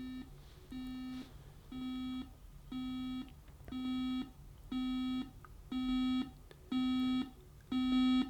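A BUSH DAB USB clock radio alarm beeps in a regular pattern of long tonal bursts, about one per second, growing gradually louder over nine pulses.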